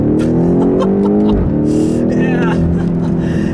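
A 2018 BMW X6M pulls hard in second gear, its engine note climbing loudly and steadily before a brief shift dip and renewed rising roar, heard from inside the cabin.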